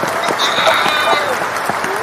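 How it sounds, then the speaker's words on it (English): Applause from a clapping machine in a talk-show studio, an even, continuous patter of claps lasting about two seconds, with voices faintly mixed in. "Let's give a clap. Yay for our clapping machine."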